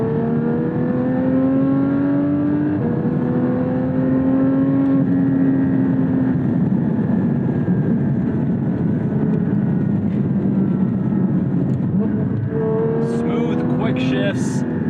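A Porsche 718 Cayman GT4 or Chevrolet Corvette Z06 (C8) sports car engine revs steadily, pitch climbing and dropping with quick gear shifts, loud and close throughout.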